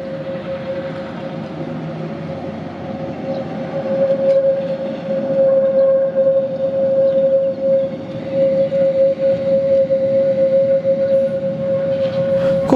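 Tram in Gotha rolling toward the main station: a loud, steady rumble of wheels on rails that swells midway, with a sustained tonal squeal running through it.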